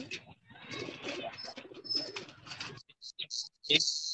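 Soft coos of teddy pigeons blend with nearby people talking, followed by a few short, sharper calls at the end.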